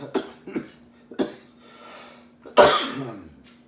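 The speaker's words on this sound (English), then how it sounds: "Sorry for all the coughing." Several sharp coughs come in an uneven series, ending with a louder, harsher cough and a rough throaty tail.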